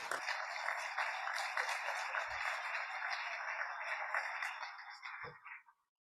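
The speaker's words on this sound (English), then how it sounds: "A round of applause for Supriya." Applause from an audience at a business keynote event, a thin, band-limited wash of many hands clapping that holds steady and then tapers off and fades to silence near the end.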